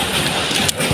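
Steady hiss of rain falling on a hard surface, dense and close, continuing without pause.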